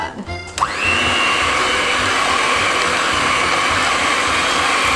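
An electric mixer starts after a brief clatter and runs steadily and loudly, beating egg yolks for a cheese soufflé with a constant high whine.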